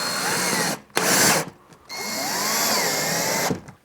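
A power drill drives a Phillips-head drywall screw into OSB, with a short whirring burst, a pause, then a longer, rising whine as the screw seats.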